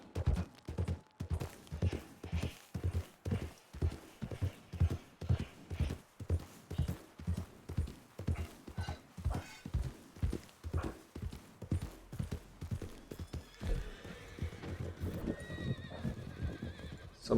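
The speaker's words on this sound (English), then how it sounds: "Some wild horses." Wild horses in a video game gallop in a fast, even clip-clop rhythm of hoofbeats, then a horse neighs and whinnies near the end, moderately loud and without talk.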